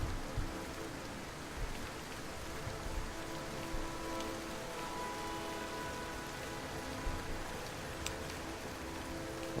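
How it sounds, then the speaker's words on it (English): Rain pouring in Morrowind, a dense steady hiss of drops on surfaces throughout, with occasional small ticks and knocks, no talking. "It's always raining in Morrowind."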